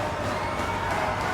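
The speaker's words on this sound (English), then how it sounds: "And Generico getting the crowd fired up." A wrestling crowd roars steadily at a match between El Generico and Kevin Steen, a dense, continuous wall of cheering and shouting with no break.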